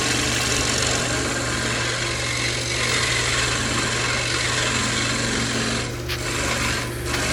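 Wood lathe spinning a soft, punky sweetgum bowl lid held by the tailstock, giving a steady, close mechanical hum with a continuous rasping rub of the wood that dips briefly near the end.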